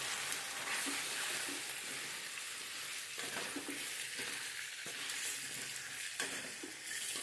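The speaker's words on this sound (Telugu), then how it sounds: "ఇది మంచిగా కలిసేలా కలిపిస్తున్నాం." Potato chicken curry with beans stirred in a pan, a soft continuous sizzle with intermittent scraping strokes of a spoon, fairly quiet and with no talking.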